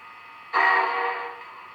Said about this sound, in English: F3 is the short whistle.